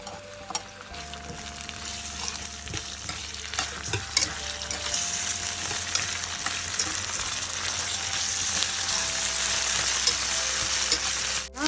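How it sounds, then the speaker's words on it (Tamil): Shallots, cashews, cinnamon and ginger sauté in hot oil with a dense, steady sizzle that swells louder over time, punctuated by occasional light stirring clicks, close and without speech. "கொஞ்சம் இஞ்சி எண்ணெயில் வதக்கி அரைக்க போகிறோம்."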